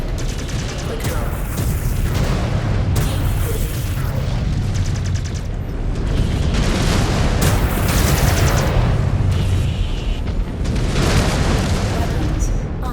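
A mech-combat battle in MechWarrior 5: Clans, where heavy booming explosions from a destroyed target roll through dense, continuous weapon fire and rumbling.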